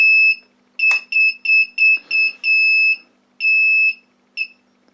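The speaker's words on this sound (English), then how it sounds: "I've turned the buzzer off and the motor will work again" A throttle warning buzzer on a plane beeps in a clipped, irregular run of about a dozen piercing electronic tones. Some are short and some are held longer, loud and close, with a sharp click partway through.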